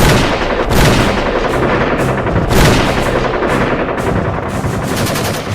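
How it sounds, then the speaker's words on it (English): Bofors artillery guns of the Indian Army firing during the Kargil conflict in Ladakh, a loud, dense barrage of booming blasts and rapid gunfire with no pauses, heard close and continuous. "the land of Ladakh came alive with the booms of the Bofors"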